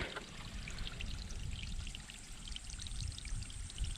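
Water pouring steadily in a continuous splashing stream, close by, with no voices, as water is collected in the Maha Oya jungle near Nuwaragala, Sri Lanka.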